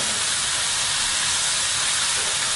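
Chopped onion sizzling in a pan with pancetta, a loud, steady, bright hiss that fills the whole moment without a break.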